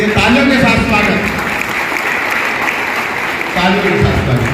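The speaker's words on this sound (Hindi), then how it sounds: "तालियों के साथ स्वागत" Applause from an audience welcoming a guest speaker at a Hindi-language public talk event, a steady dense patter of clapping filling the room with a voice heard over it at the start and end.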